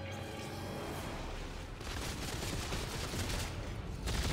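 An enemy in Dead Space 3 fires in a continuous rattling barrage of gunfire, moderately loud and building toward a sharper burst at the end.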